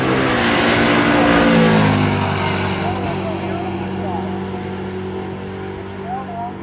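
A 1968 Chevelle and a 2003 Mustang Terminator Cobra drag racing at Gainesville Raceway: loud engines roar and rev at the start, then fade as the cars pull away, with announcer-style talk over the crowd noise.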